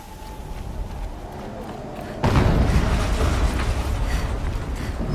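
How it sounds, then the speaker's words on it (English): A sudden loud explosion in the Horizon Zero Dawn video game bursts out after a quieter stretch and leaves a broad, rumbling roar that carries on to the end. "An explosion."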